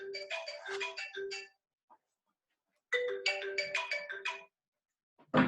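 A mobile phone ringtone plays two bursts of bright, chiming melodic notes at moderate volume, with a pause of about a second and a half between them, in an otherwise quiet room.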